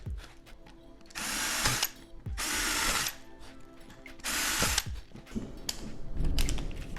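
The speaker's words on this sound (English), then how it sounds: "So just take a drill" A power drill whirs in three bursts of about a second each, loud and close, separated by brief pauses and some clicking handling noise.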